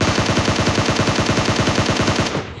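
Rapid automatic M4 rifle fire in a video game, a fast, unbroken burst of sharp cracks at close range.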